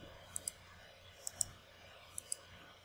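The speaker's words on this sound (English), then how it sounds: "we can right-click a recording run and click Backup" A computer mouse clicks close by, in three quick pairs spread evenly over a quiet background.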